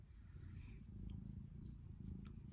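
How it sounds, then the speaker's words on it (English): A pet cat purrs close by in a low, rhythmic, continuous rumble, quiet but steady, with no talking over it. "Adopt a cat, y'all."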